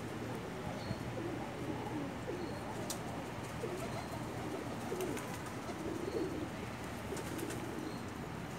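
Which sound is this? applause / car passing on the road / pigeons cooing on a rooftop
pigeons cooing on a rooftop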